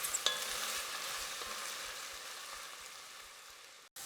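Potatoes and carrots sautéing in a pan for a Mexican-style noodle soup, a steady soft sizzle with no break in it, heard fairly quietly and close up with no one talking.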